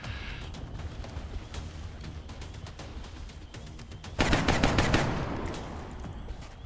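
In XCOM: Enemy Unknown, a burst of gunfire rips out at a Shiv, a short loud volley of rapid cracks over steady game ambience and music, then fading back down.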